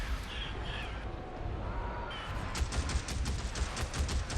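Rapid bursts of gunfire in the zombie survival game Days Gone, a string of sharp close shots arriving in quick succession over a dense, noisy ambient bed.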